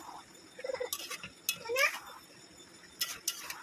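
Meat curry stirred in a cooking pot gives a few scattered scraping clinks of a spoon against the metal, faint and close, with pauses between and soft household sounds in the background.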